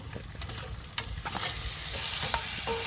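Farm duck meat drops into hot spices in a pan and fries with a loud, steady, close hiss and crackle, broken by a few soft scrapes of stirring.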